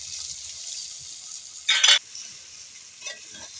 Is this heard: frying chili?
yes